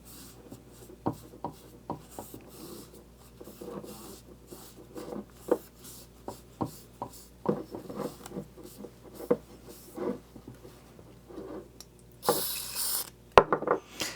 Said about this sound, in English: I'm going to be using Ballistol, and then we're going to wipe it on.